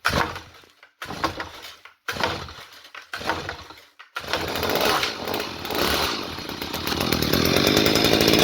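A small gas-powered Stihl HS 45 hedge trimmer engine sputters through several short bursts with gaps as it is pull-started, then catches and runs continuously, loud and buzzing, revving higher toward the end.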